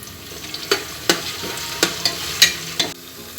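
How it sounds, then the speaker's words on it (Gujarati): Ginger garlic paste with onions being sautéed in a pan, soft sizzling underneath sharp spoon strokes against the pan in an uneven rhythm of about eight scrapes, close by with no talking. "હવે આપણે આદુ અને લસણની પેસ્ટ છે એ પણ નાખી દઈશું અંદર. એની કચાશ ન જાય ત્યાં સુધી આપણે એને સાતળી લઈએ."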